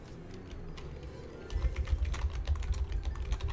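Soft, rapid typing on a computer keyboard, a steady patter of light key clicks that grows denser and louder about halfway through, with a low hum underneath and no talking.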